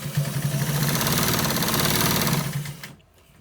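An electric sewing machine runs continuously, stitching white trouser fabric to the top section, a steady loud mechanical whir with rapid needle rhythm for nearly three seconds before it stops abruptly.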